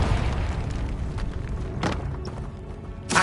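Confringo blasting spell explosion in the game Hogwarts Legacy inside a stone tomb, a couple of dull booms and thuds over a low rumbling ambience.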